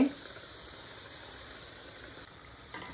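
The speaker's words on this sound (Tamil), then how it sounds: "ஒன்று ஒன்றா டிப் பண்ணி எண்ணெயில் சேர்த்துக்கோங்க அப்படியே." Batter-dipped potato balls for Mumbai-style vada pav frying in hot oil, a steady low sizzle and bubbling that runs close and fairly quiet throughout.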